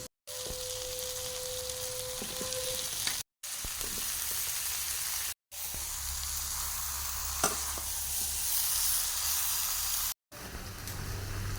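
Goat mutton being browned in a pan for a spiced curry as potatoes go in: a loud, continuous sizzle with occasional clinks of stirring, interrupted by a few brief cuts.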